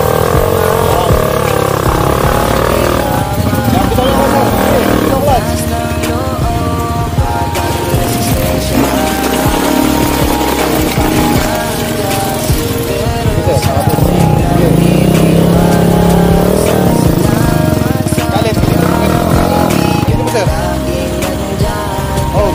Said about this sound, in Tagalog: galitin mo yung throttle sir